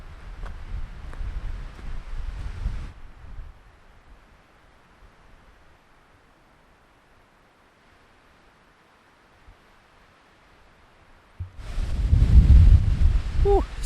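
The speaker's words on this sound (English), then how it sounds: "it's windy up here." Wind gusts at a lakeside lookout, loud broadband rushing at the start, then a long quiet lull, then a strong buffeting blast near the end against the microphone.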